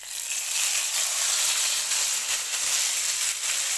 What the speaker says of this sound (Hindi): तो तड़का हमने डाल दिया है